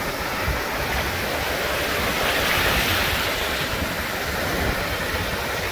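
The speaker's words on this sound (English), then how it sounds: "Let's zoom in on those waves a little bit there." Surf breaking on the beach at South Padre Island, a constant roaring wash of waves with some wind buffeting the microphone, swelling slightly in the middle and running without speech.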